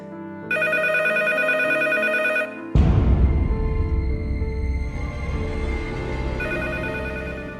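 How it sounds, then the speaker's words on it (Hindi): A telephone rings in a movie scene, a bright electronic ring that stops abruptly and is followed by a dense burst of other scene sound, with ringing tones returning near the end. "वो कॉल बजता ही रहता है"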